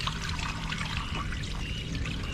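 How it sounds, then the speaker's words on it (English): Water poured out of a container at an outdoor construction site, a steady continuous splashing pour lasting a couple of seconds, close and fairly even in level with no voices. "I should dump some of this water out."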